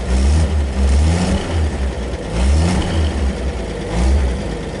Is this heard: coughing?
no